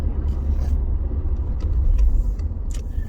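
Steady low engine rumble and road noise heard from inside a left-hand drive car on a drive around Angus, Scotland, with faint clicks and rattles over the continuous drone.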